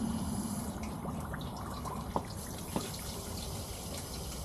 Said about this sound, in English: So now we've got flow. Lovely clear water coming out from there.